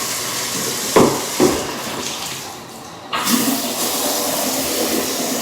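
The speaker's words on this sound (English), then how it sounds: "Get a jump start with the shower." Water from a shower pours steadily into a bathtub during a bathroom cleanup, a broad, even rush with a couple of knocks near the start, a brief dip, then steady flow again.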